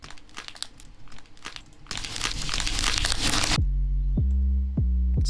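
Ripped paper sample loaded into a synth's second oscillator: dense crinkling and tearing for a few seconds, rising into a louder, harsher burst, then cut off into a repeating tonal, pitched-down bass pulse.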